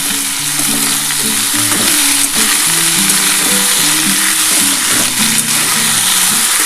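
Potatoes, tomatoes, green and dried chillies and five-spice seeds fry in a pan, giving a loud, constant sizzle with spatula scrapes and stirring knocks throughout.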